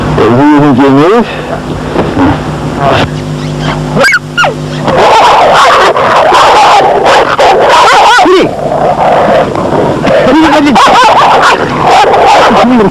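A dog barks and whimpers at a rural farmhouse in Iceland, with sharp yips and whines recurring over several seconds, close and loud, mixed with people talking.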